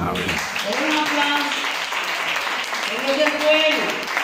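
Audience applause at a church conference for children's Bible school teachers, a steady wash of clapping running under a voice and cheering.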